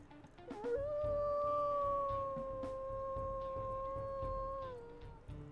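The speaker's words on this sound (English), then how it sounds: "let's check out those howls" A wolf in the video game WolfQuest lets out one long, sustained howl that rises briefly then holds a steady pitch for about four seconds before tapering off, clear and prominent over a low background rumble, no voices.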